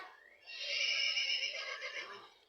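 A toy plays a recorded horse neigh, a single bright, close whinny with a wavering, drawn-out call lasting about two seconds.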